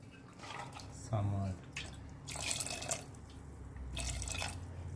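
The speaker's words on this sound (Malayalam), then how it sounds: "ആദ്യം നമുക്കിതിന് വേവാൻ ആവശ്യത്തിനുള്ള വെള്ളം ചേർക്കാം." Water is poured into a pressure cooker holding white chickpeas, giving soft splashing and trickling in short bursts, with a person speaking between the pours.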